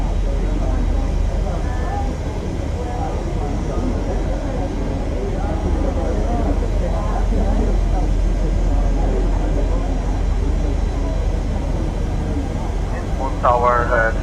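An airliner takes off in Microsoft Flight Simulator 2020 with a steady, loud engine drone that holds throughout, while radio talk with the control tower carries over it.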